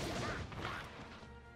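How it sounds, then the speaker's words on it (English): In the video game One Piece Burning Blood, Kuma's thrust pad cannon attack lands as a broad, heavy crashing impact with a whooshing burst, fading slightly over its short length. "his pad cannon actually becomes thrust pad cannon"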